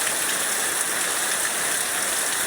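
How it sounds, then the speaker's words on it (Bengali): Heavy rain pours steadily near the end of the Bengali year, a dense, even hiss of drops drumming on surfaces nearby, continuous and unbroken with no voices. "আমাদের এলাকার বৃষ্টিটা আজকে দেখালাম আপনারা সবাইকে।"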